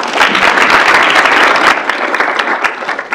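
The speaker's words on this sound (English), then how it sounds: "give her a round of applause" Audience applause at a student involvement meeting, a dense burst of many hands clapping loudly for a few seconds before thinning out and fading.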